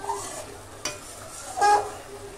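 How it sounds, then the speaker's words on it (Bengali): Pointed gourd and potato fry in a pan seasoned with five-spice, giving a soft steady sizzle broken by a couple of sharp scrapes and stirring clinks, close and fairly quiet. "তো এই যে পটল আলু 5 ফোড়ন দিয়ে বসিয়ে দিয়েছি। আর এখন ভাজাও প্রায় হয়ে গেছে।"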